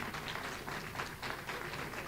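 An audience at a World AIDS Day commemoration event applauding, a fairly faint, steady patter of many hands clapping in an indoor hall.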